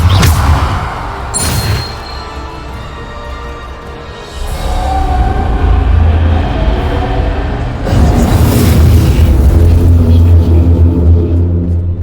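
Bombarda spell explosions in Hogwarts Legacy: several heavy, booming blasts with deep rumble, each bursting out loudly and trailing into sustained roar, no talk.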